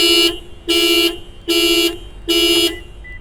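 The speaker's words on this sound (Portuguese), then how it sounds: "ele basicamente apita se você for bater, ou ele apita se você estiver saindo da faixa" A 2023 Toyota Yaris Sedan XS driver-assist warning chime for collision or lane departure sounds four times in a steady rhythm, each loud electronic beep lasting about half a second with short gaps between.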